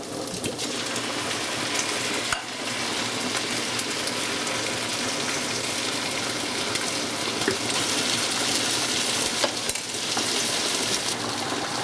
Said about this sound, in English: Time to add our mushroom soup. Basically, just like every other thing I make with mushroom soup, you just dump her on in.